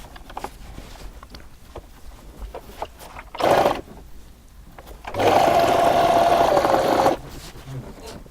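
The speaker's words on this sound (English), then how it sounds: "So I'm going to stitch this place right now." A sewing machine stitches the armhole and shoulder of a blouse in two bursts, a short one followed by a longer steady whirring run, with quiet handling noises of fabric in between.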